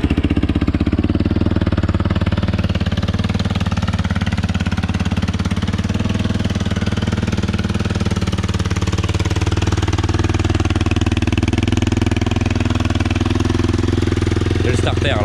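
A custom quad bike with a baffled exhaust runs cold on the choke, giving a loud, close, continuous rumbling idle that holds steady throughout.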